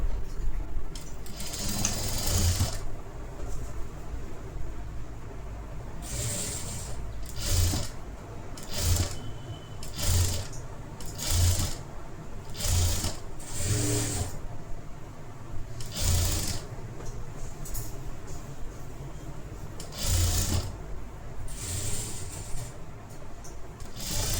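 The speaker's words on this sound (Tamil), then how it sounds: "இப்போ ரவுண்டாக ஸ்டிச் பண்ணிக்கோங்க." A sewing machine stitches around the neckline of a pack-neck princess-cut blouse, running in loud, close bursts of rapid mechanical clatter broken by short pauses, with a low motor hum underneath.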